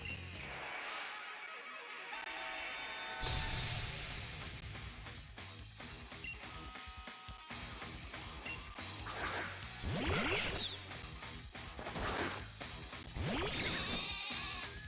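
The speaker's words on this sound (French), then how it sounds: "Dégage ton mouton de là." A sheep Pokémon in Pokémon Sword/Shield bleats during a battle, several wavering cries among game effects, whooshes and hits over background music.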